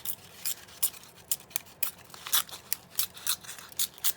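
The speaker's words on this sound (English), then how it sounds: "just listen to that sound of paper tearing" Paper being torn while decorating a handmade envelope journal, a close, quiet series of short crisp rips and crackles in an irregular rhythm, heard alone without talk.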